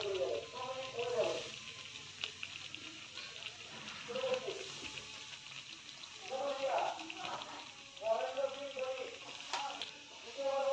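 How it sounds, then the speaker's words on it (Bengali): Tomato chutney with pepper and grated coconut simmering in a pan, giving soft bubbling and sizzling under a voice speaking Bengali. "আমাদের চাটনি এবার কিছুক্ষণ ফুটতে দেবো।"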